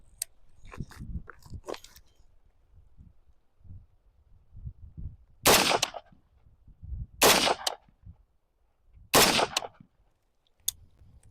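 Three loud, sharp gunshots ring out at an outdoor shooting range, spaced about two seconds apart. Quieter handling clicks and rustles come before them, and a faint click follows.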